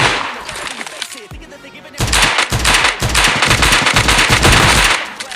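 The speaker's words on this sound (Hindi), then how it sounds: "आजू बाजू इतनी फायरिंग सुन के मुझे लगा भाई फाइटें भिड़ चुकी है" Dense automatic gunfire from a PUBG battle royale match, loud bursts and rapid overlapping shots after a quieter opening, with a Desert Eagle pistol in use among the weapons.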